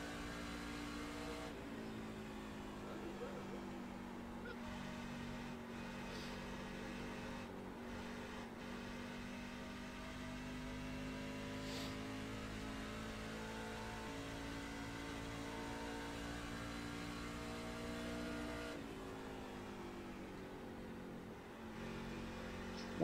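A NEXT GEN Cup race car engine in iRacing at Nashville holds a steady, loud drone at wide-open throttle. Its pitch rises and falls gently with a couple of brief dips, continuous and close throughout with no talk.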